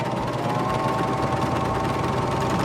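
A Baby Lock Vibrant serger running a three-thread narrow stitch along cotton fabric, its motor humming with a fast, steady stitching rattle from start to finish, close and loud, with no voices.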